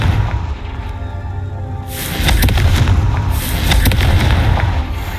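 Spell blast from the Confringo fire spell in Hogwarts Legacy: a loud, booming burst of fiery explosions with crackling that swells and then rolls on over a steady rumbling background, with a second surge near the end.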